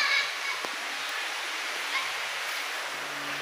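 The Cachoeira Vargem do Salto waterfall in Ibiúna makes a faint, steady broadband rush of falling water heard from a distance, with a few brief rustles.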